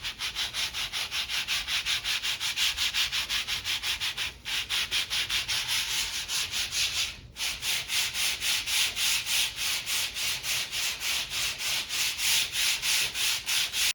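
Steady rhythmic rasp of sandpaper rubbed back and forth over particle board furniture, close and continuous, with one brief pause midway.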